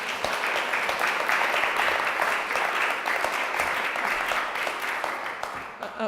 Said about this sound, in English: So if you could just, before they start, just a little hand of applause.